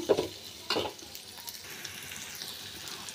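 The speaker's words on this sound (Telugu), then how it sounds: "ఆనియన్స్ వేసి ఆనియన్స్ని బాగా వేపుకోవాలండి." Onions frying in a pan, a quiet sizzle with a couple of brief louder stirring bursts near the start, no talking.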